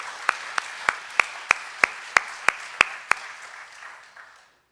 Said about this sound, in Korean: 저는 여러분들께 큰 박수로 격려를 해드리고 싶습니다